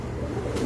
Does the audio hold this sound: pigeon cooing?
yes